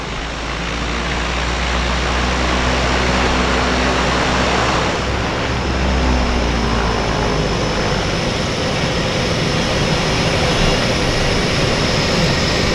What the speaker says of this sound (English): Got another aircraft starting up right there on the right. Another turbo.